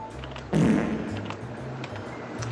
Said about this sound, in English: I did the fart noise